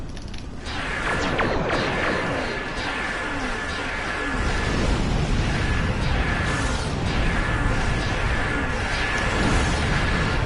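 Starship weapons fire and explosions in a space battle: dense, loud crackling blasts and rumbling bursts that pile up continuously, with a steady tone running underneath.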